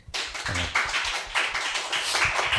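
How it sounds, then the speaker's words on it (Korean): A church congregation at a Sunday service claps in encouragement, a loud, close burst of many hands that starts abruptly and keeps a busy, uneven patter throughout. "격려의 박수 한번 주세요."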